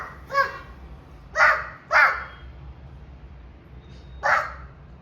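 A child imitates a dog, giving four short, sharp barking yelps spaced irregularly, close and fairly loud against a quiet background.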